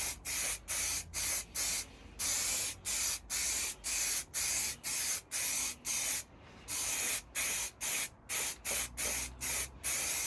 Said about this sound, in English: So this is the 4th coat of primer going on now.